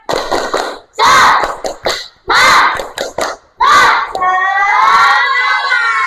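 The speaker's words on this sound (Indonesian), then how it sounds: "Tepuk semangat." Classroom children doing a rhythmic spirit clap, bursts of loud group clapping alternating with brief pauses and shouted chanting from many young voices, ending in a sustained cheer-like group shout.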